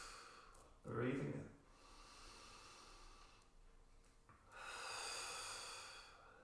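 Breathing during an intermediate Pilates exercise: a sharp forceful breath, then quieter airy breaths and a longer audible exhale, close and fairly soft.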